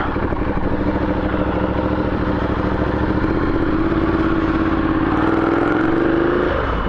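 A Ducati Diavel fitted with a 14-tooth front sprocket rumbles loudly while being ridden, the engine droning steadily from close by and rising in pitch toward the end, with wind noise and no talk.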